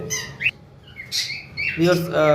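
A pair of blue opaline Fischer's lovebirds giving a few sharp, loud squawks and chirps close by, with brief gaps between calls and voices talking around them.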